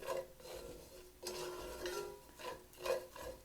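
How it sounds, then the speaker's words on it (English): Rice toasts in a little leftover oil in a skillet for lemon dill rice, stirred continuously with soft, quiet scraping strokes and a faint sizzle underneath. "So just going to let it cook, stirring it continuously."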